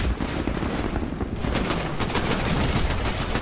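Rapid, continuous bursts of G2A4 rifle gunfire ring out in Titanfall PC gameplay, dense and loud from start to finish with no pause, heard alone without talk.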